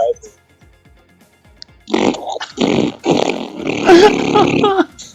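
A voice imitates a long, triumphant fart with blubbery, buzzing bursts that rise into a drawn-out rasp, close and loud, after a quiet stretch with faint talk.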